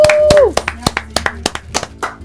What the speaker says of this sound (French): Et on applaudit nos mamans qui sont sur le plateau.